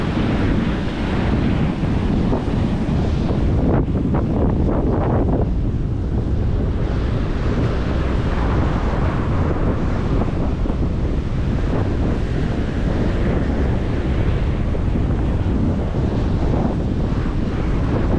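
Ocean waves churn and wash steadily around a fishing outing at sea, a loud, continuous roar of water heavily mixed with wind buffeting the microphone, with no talking.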